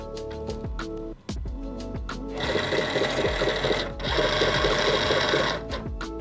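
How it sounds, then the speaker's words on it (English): A Singer Momento cutting machine pulls in a 24-inch cutting mat, giving a few soft clicks and then a steady, close mechanical whirring from its feed motor that pauses briefly and then resumes. "To load the mat, I simply hit load mat."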